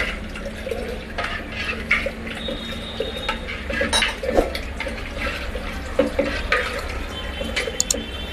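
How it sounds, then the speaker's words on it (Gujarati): Water is poured from a glass into thick, ground Gujarati dal in a pot for cooking, a steady splashing, trickling pour that runs close by for the whole stretch, with no voices. "દાળ ઘાટી છે તો આપણે તેમાં 2 ગ્લાસ પાણી નાખશું."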